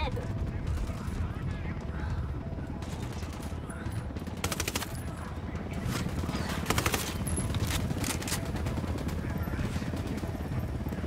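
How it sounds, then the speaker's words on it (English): Dense, continuous gunfire from snipers and other weapons in a Ghost Recon Wildlands firefight, with rapid overlapping shots and bursts, a helicopter droning nearby, and a player talking over the combat. "Who the fuck is shooting me from where? Sniper, another sniper."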